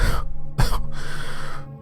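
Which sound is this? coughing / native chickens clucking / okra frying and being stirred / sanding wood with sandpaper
coughing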